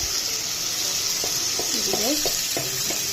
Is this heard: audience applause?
no